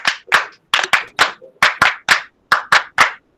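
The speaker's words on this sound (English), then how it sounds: "Clap for Anurag." Audience members clap for Anurag during an educators' webinar, about a dozen sharp, separate hand claps in an uneven rhythm, close and fairly loud, with silence between them.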